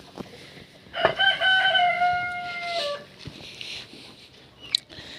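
A rooster lets out a single long crow close by, with softer chicken clucks and farmyard noise around it.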